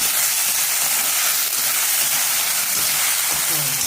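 Sabudana (tapioca pearls) being fried in oil for sabudana khichdi, a steady close hiss and sizzle running unbroken, with faint stirring clicks underneath.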